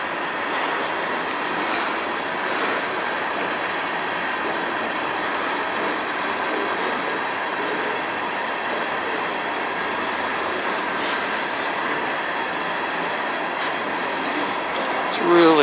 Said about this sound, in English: This is one of the snail trains.